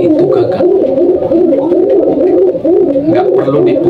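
A pigeon kept for Indonesian pigeon sport coos loudly and close by, repeating a throaty, rolling call in a steady rhythm throughout.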